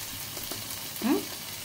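Fish dropped into spiced oil in a cooking pot sets off a soft sizzle and a brief stirring swell near the end of a short burst, with faint voices in the background.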